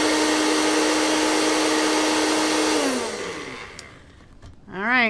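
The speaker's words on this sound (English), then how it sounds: "I'm gonna stick it on the blender" A micro blender grinds black lava salt into a fine powder, a loud steady high-pitched whir that winds down after about three seconds, followed by a short rattling clatter and a brief rising whoosh.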